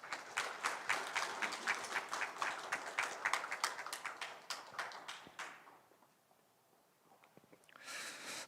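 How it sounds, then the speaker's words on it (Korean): An audience at a Yeosu forum on carbon-neutrality strategy claps in a dense burst that thins out and fades to near silence, then a brief soft rise returns at the end. "큰 박수 부탁드리겠습니다."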